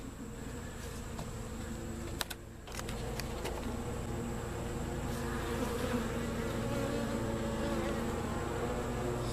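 A small swarm of honey bees, field bees carrying yellow pollen, buzz close by in a steady, dense drone that dips briefly near the start before resuming unbroken.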